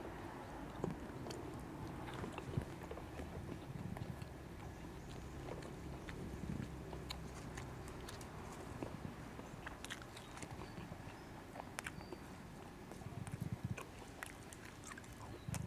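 Crunchy chewing of crispy fried kaffir lime leaves eaten with stir-fried basil pork, steady close bites and munching over faint wind noise, no speech.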